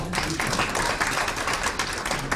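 An audience at a policy colloquium panel discussion claps steadily throughout, a dense, even burst of applause from many hands.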